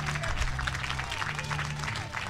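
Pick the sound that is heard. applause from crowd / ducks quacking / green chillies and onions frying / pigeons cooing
applause from crowd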